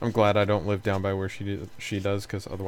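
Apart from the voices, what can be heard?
No everyday noise stands out behind the speech.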